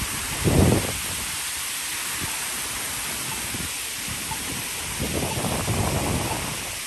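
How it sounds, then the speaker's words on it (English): An outdoor downtown fountain splashes steadily, a loud broadband wash of falling water that fills the scene, with brief gusts of rushing noise rising over it. "It's nice to stand by this fountain because it really cools you down."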